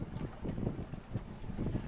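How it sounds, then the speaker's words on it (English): Wind gusts buffet an anchored boat in rough weather, a steady low roar with surging gusts and the wash of water against the hull, close and continuous with no talking. "Because the winds is whipping up."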